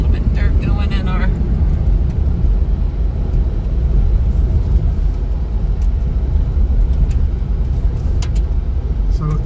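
A stock base Ford Bronco on small tires and without lockers drives off-road at about 40 mph, giving a loud, continuous low engine and road rumble with rattling from inside the cabin and a brief voice near the start.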